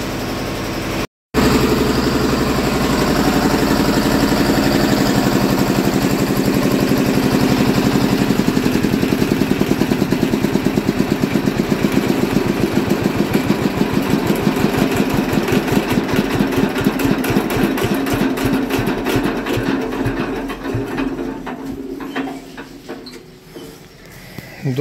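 A stationary engine powering a fodder chaff cutter idles steadily for a long stretch with an even, low, chugging pulse. It cuts out briefly near the start and fades somewhat toward the end. No one talks.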